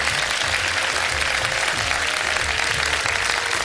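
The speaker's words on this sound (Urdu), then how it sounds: "ارے تالیاں تو بجا دیں یار" A studio audience on a Ramadan sehri television show claps in a steady, even burst of applause, dense and continuous for a few seconds with no break.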